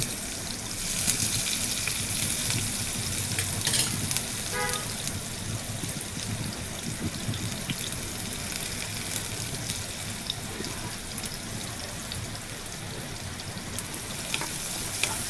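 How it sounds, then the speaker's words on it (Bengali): Chopped onion sizzling in hot oil that was just used to fry turmeric-coated eggs, for a chana dal dish with ridge gourd. A steady, crackling hiss runs on continuously and close, with no one speaking. "সেই গরম তেলে পেঁয়াজ কুচি দিয়ে দিব।"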